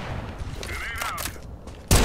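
A grenade blast in CS:GO on Dust, a loud sudden boom at the very end after a stretch of muffled gunfire, distant game sounds and a brief voice line.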